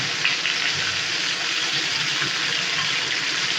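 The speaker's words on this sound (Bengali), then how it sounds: "তাহলে চিনিটা আমি দিয়ে দিচ্ছি।" Sugar pours steadily into a bowl of homemade mango pickle in a home kitchen, a continuous soft granular hiss that runs close and even for a few seconds with no talking.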